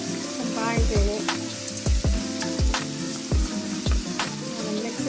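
Ground beef browns in a pan with a steady sizzle, and dull thumps from a utensil against the pan recur throughout.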